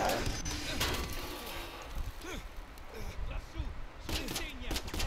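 Gunfire from the video game Uncharted 4, a series of sharp shots and bursts at moderate volume spread through the clip, mixed with game effects and music.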